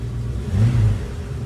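The engine of a 1966 Ford Mustang convertible, running on a cold start with the choke on, takes a quick throttle blip, a short swell of mid-pitched engine roar over a steady idle, heard close with no talk.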